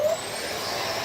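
A vacuum cleaner drones steadily at close range while re-vacuuming a vacuum storage bag, a brief whine followed by a constant airy roar.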